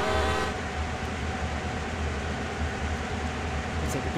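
An Amtrak train passes in the Train Sim World game on the Northeast Corridor near New York, a loud continuous rolling rumble with a brief higher tone at the start and a faint sharp chime near the end, no voices.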